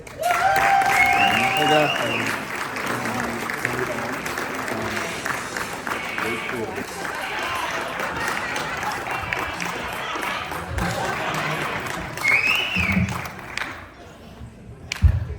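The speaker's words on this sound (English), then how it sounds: "let's give a big round of applause while we welcome him to the stage" An awards-ceremony audience applauds as a speaker is welcomed to the stage, clapping running throughout under music and occasional voices, with thumps and footsteps near the end as the applause fades.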